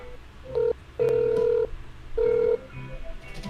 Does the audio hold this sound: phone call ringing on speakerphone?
yes